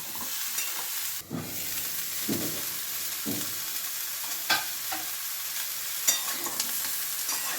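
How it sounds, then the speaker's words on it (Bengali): Potatoes and young jackfruit fry with spices in a pan, giving a steady close sizzle broken by several scraping stirs of a spoon against the pan. "আলু আর এঁচোড়টা আমি একটু ভেজে নেব মশলার সঙ্গে।"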